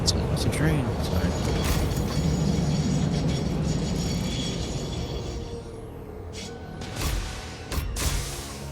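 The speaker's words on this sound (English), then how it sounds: "It's a train." Train in the video game Satisfactory rumbling and rolling along its track, loud at first and then fading, with sharp clanks and squeals near the end.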